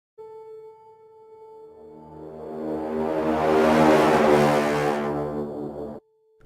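A sampled horn played in reverse inside a music track swells from a thin sustained tone into a dense, loud, roaring chord that peaks midway, then cuts off abruptly.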